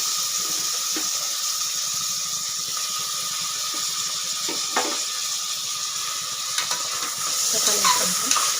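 Tomatoes sauté with ginger and garlic in a pan for chicken biryani, a steady loud sizzle under repeated scraping stirs and occasional clinks of a spoon.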